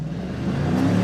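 An ICON Derelict hot rod's engine roars steadily, rising slightly in pitch as it revs hard, loud and close throughout with no voices.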